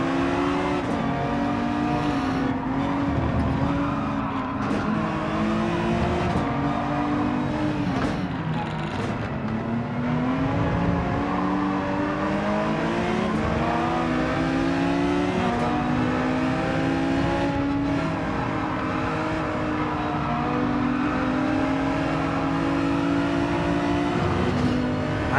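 Race car engines roar through a Gran Turismo 7 online daily race, a loud, continuous whine rising and falling in pitch through gear shifts, with occasional tire squeal.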